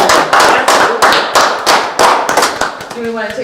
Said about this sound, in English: and applaud our veterans